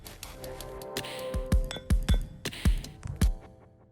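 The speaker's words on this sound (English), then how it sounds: "Altogether, the drums sound like this." Foley drums with a kick made from hitting a wooden bed: deep thuds land in an uneven groove under a layer of jangly clinks and taps, close and fairly loud over roughly four seconds, then fading.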